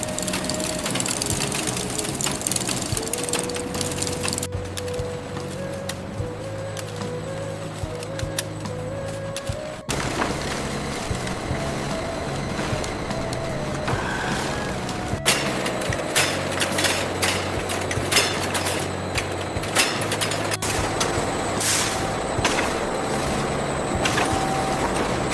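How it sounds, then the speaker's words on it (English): Propeller engines of a fishing trawler running at sea, a steady low mechanical drone with rumbling hum and intermittent clanks and rattles, fairly distant and continuous throughout. "the low growl of the propeller engines and the gentle lapping of the vast ocean"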